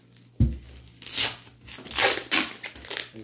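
Close crinkling and tearing of a package being cut open with scissors, with a sharp snip near the start followed by several bursts of rustling and crunching.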